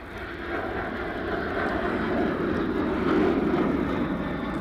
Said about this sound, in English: now this Embraer Legacy, it's in now